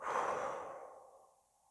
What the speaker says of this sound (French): je vous propose de prendre une grande respiration et d'expirer